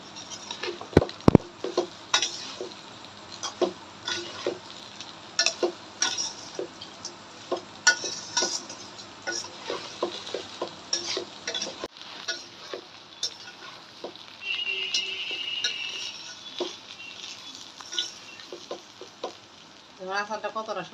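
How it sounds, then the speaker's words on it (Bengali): Spices and sugar being stirred into a tart-spicy-sweet raw mango pickle with the peel on, cooking in a pan: repeated scraping and clinking of a spoon against metal, with a faint sizzle underneath and no one talking. "এবার আমি মশলা আর চিনিটা ভালো করে মিশিয়ে নেব।"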